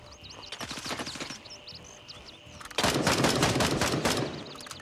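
Sustained automatic rifle bursts of suppressing fire in the military shooter Grayzone Warfare, a rapid rattle of shots that steps up to a louder, denser barrage midway, heard close with no talk over it.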